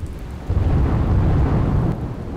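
Heavy monsoon rain with thunder over Surat, Gujarat: a low rolling rumble swelling after half a second and sustained over a steady rain hiss, fairly near and moderately loud.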